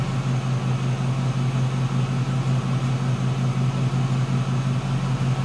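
An EVAP smoke/vacuum tester pulling vacuum on a Chevrolet fuel tank gives off a steady, close mechanical hum with a constant low drone and no variation.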